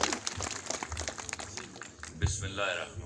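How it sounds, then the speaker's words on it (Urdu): An audience applauds to welcome poet and Pakistani drama writer Khalil ur Rehman Qamar, with fairly quiet, scattered clapping that swells briefly, amid talk. "آپ کی بھرپور تالیوں میں جناب خلیل الرحمان قمر"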